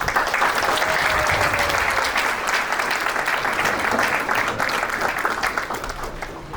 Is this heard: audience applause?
yes